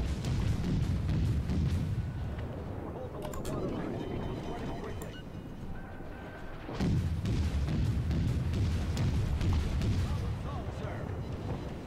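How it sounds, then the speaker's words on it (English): Heavy booms and rumbling impacts from a torpedo striking a warship in the naval battle game World of Warships, loud and dense, with a continuous low roar of battle under layered explosions and a voice talking over it. "Oh, that's us eating a torpedo."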